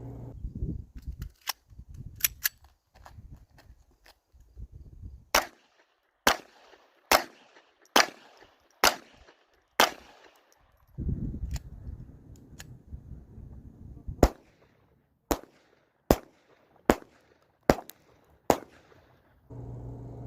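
Sharp gunshots from a Walther replica of the Colt Government pistol chambered in .22 LR, fired in an irregular string of about twenty crisp, loud cracks with short pauses between shots.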